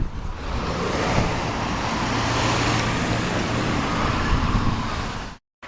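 Steady, loud roar of road traffic on Kauai's main highway, a continuous wash of car and truck tire and engine noise passing nearby, unbroken until it cuts off abruptly at the end.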